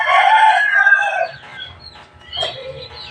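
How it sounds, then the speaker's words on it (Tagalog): Pet chickens clucking and crowing close by, a loud crowing call over the first second and a half, then softer clucks and a short rising call near the end. "Ito yung aking mga alagang manok na mga mababait."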